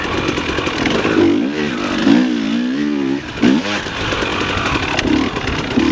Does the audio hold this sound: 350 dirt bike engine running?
yes